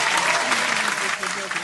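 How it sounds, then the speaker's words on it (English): A crowd gives a full round of applause at a podcast recording, dense and continuous clapping that eases off slightly toward the end. "Let's give all them a round of applause."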